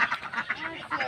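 Ducks kept in a small pond quack in short, repeated calls at a moderate distance, with faint background noise between the bursts.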